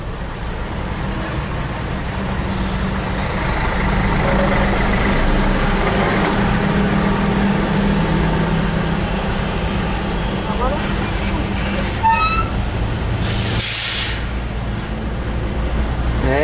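Steady road traffic with trucks and buses on highway BR 381 in Brazil, a continuous broad rumble with passing vehicles and a brief air-brake hiss near the end, while someone talks over it.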